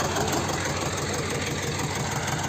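A tractor stuck in the mud idles steadily, its engine a constant, close, dense rumble with a faint knocking texture that runs unbroken from start to end, no voices over it.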